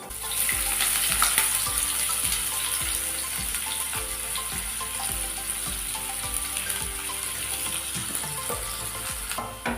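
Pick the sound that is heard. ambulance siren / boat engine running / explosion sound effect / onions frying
onions frying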